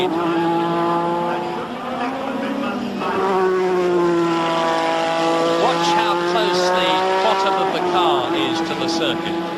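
Formula 1 race cars howl around Brands Hatch in 1986 qualifying, one loud high-revving engine sustained close by with rising and falling pitch through gear changes, a commentator talking over it.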